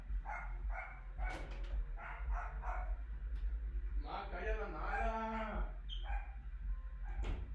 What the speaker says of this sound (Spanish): permítanme que se escuche el ruido del perro